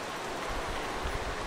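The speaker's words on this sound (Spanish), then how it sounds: "Sigue lloviendo, a cántaros." Heavy rain pours down near Changi in Singapore, a dense, even broadband hiss with no pauses or distinct drops, steady and fairly close, with no talk.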